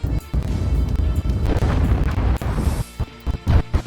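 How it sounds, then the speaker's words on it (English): Heavy booming blasts from the video game Space Engineers rumble and crash in a dense, continuous burst, then a few sharper hits and pops follow after a short lull. "I heard explosions."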